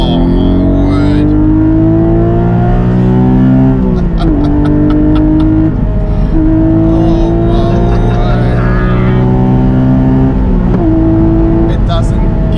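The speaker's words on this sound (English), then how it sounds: "we've got a 4-litre naturally aspirated engine" The 4-litre naturally aspirated engine of a Porsche 718 Cayman GT4 with a 6-speed manual gearbox revs loudly from inside the car, its pitch climbing and dropping across gear changes, while a voice exclaims over it.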